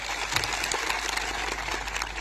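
Crowd applause at an outdoor political rally in Gujarat over saving the Aravalli hills, a steady dense wash of clapping with no voices over it.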